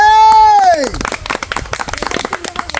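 An audience applauds a prize winner at a children's game played with banana tree parts. A held tonal voice opens, then cuts into a burst of scattered, lively clapping from a nearby crowd.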